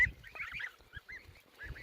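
Young geese honk repeatedly in short, slightly squeaky calls, several birds overlapping at close range with brief pauses between bursts.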